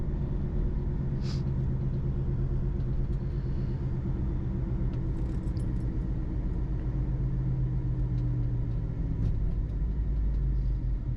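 A 2010 BMW 535i with a turbocharged engine pulls hard under acceleration, a steady low rumble heard from inside the cabin with a faint rising engine note and no talking.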